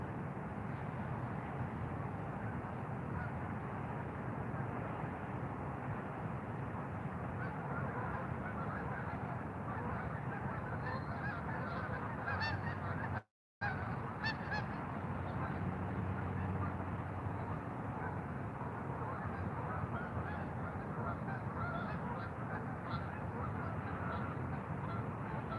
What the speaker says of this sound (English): Some good goose action going out there.